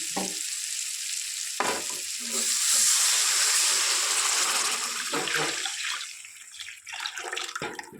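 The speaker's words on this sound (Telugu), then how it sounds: "ఇప్పుడు ముందుగా సిద్ధం చేసి పెట్టుకున్న పప్పు చారుని ఇందులో డైరెక్ట్గా యాడ్ చేసుకోవడమే." Lentil dal broth poured straight into a pot of sambar, a rushing liquid pour and splashing over a sizzling, bubbling background that swells in the middle and then settles, with no talking.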